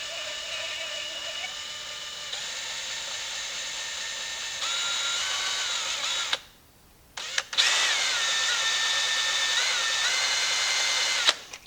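A power drill with a dull bit whines at high pitch as it bores into a plastic Halloween skeleton, the motor speed shifting, stopping briefly, then revving up again.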